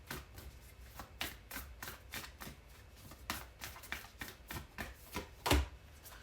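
Oracle cards riffle and slap together in steady repeated bursts, close and crisp, with a sharper snap near the end and no talking.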